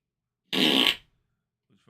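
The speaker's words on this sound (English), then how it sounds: "Who's farting?" A short, loud fart of about half a second rings out alone against silence, followed by a faint low rumble and then the start of a voice.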